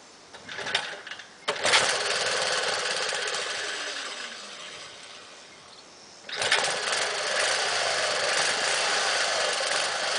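A small mini bike or mower engine runs cold after never being started, sputtering in uneven bursts at first, then settling into a steady buzzing run, dipping briefly before surging back, close and moderately loud.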